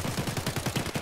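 A rapid burst of gunfire in Escape From Tarkov, about a dozen quick evenly spaced shots rattling fairly close in just over a second.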